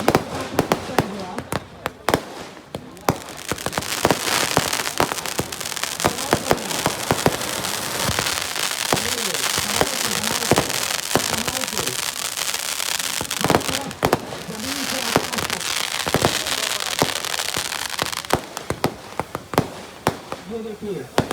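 Fireworks and firecrackers go off at the Dewa fair, with many sharp bangs and crackling bursts in dense, irregular clusters over a roaring crowd and nearby voices.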